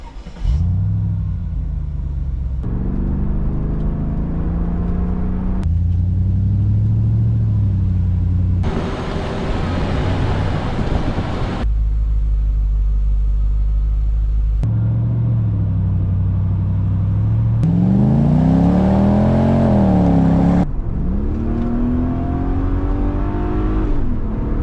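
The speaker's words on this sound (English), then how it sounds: "I love the sound, that gruff, deep, slightly hoarse M113 sound." Mercedes-Benz W202 C43 AMG with the M113 V8, a deep, gruff engine note in a series of cut-together revs and drive-bys, rising and falling pitch sweeps, loud and close throughout.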